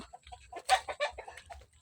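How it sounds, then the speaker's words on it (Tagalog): A fighting rooster (gamecock) clucks in short, choppy bursts nearby, a quick run of throaty calls over a quiet background. "Tapos maraming manok dito pang sabong."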